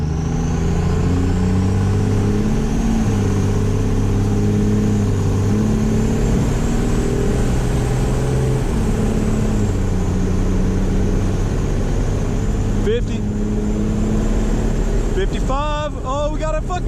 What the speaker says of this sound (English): 0 to 60 with no burnout this time, maybe a little bit more traction. Build a little bit of boost